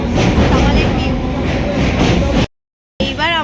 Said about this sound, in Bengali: এইবার আমরা গন্তব্যস্থলে পৌঁছানোর জন্য ট্রেন চলা শুরু হয়ে গেছে